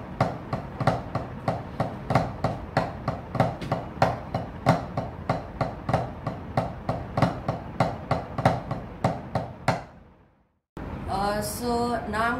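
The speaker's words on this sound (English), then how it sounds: "The final technique for this series is the flam paradiddle." Sticks strike a drum practice pad in a flam paradiddle, giving crisp, close, evenly spaced taps in a steady grouped pattern for about ten seconds. The taps stop briefly and a voice then speaks.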